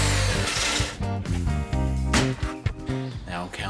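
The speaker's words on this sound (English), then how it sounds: "Now I'm going to sand them down, make them nice and smooth and clean them up." A power sander works over rustic wooden coffee table legs, its buzzing motor rising and falling in short passes close by while someone speaks over it.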